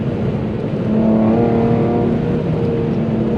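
A V6 engine in an Infiniti G37 revs and pulls hard under acceleration, a steady loud drone with rising harmonics that climbs in pitch and holds close up.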